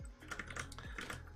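Soft keystrokes clatter on a computer keyboard at close range in a short burst of a few quick taps, quiet and with no voice.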